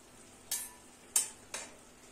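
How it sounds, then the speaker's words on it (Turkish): Eggs poured into a hot pan of menemen meet it in three short sizzling bursts, each hissing up sharply and fading over a quiet kitchen background. "Yumurtasını döküyorum."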